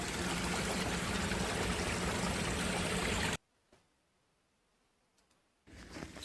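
A valley stream flows in a steady, loud rush for about three seconds, then cuts to near silence with faint ticks before the water sound returns.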